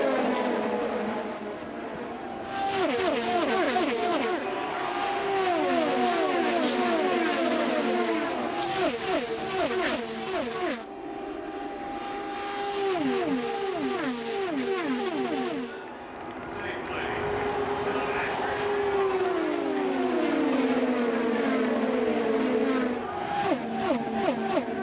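IndyCar race cars at the 2015 Indianapolis 500 roar past in close packs running two abreast, loud whining engines sweeping in repeated pitch-shifting passes with brief lulls between groups, under continuous commentary.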